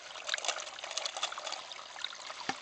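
Spring water from a hose trickles and splashes through a small sluice, a quiet, uneven dribble with light bubbling and a few sharper drips, close by and alone.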